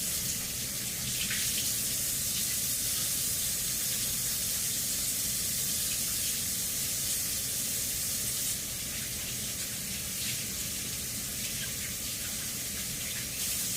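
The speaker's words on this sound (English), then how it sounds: "I'm gonna go just wash my hands one more time" Tap water runs steadily into a sink during handwashing in a home kitchen, a continuous close hiss and splash with no break and no talking.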